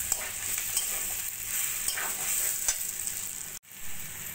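Rice being stir-fried with a vegetable curry in a pan, giving a continuous close sizzle with soft scraping stirs, a brief dropout near the end, and no talking.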